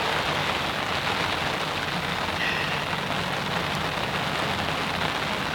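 Rain falling steadily at a fishing lake, an even hiss of drops on water and surfaces, constant and close throughout, with no voices.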